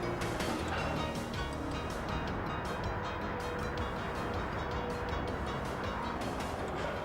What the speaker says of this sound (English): When loaded, the railway cars are replaced with a new set.